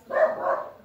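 A single dog gives a short, fairly close bark or yelp of about a second, rising and fading on its own with no talk over it.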